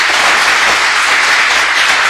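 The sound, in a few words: church congregation applauding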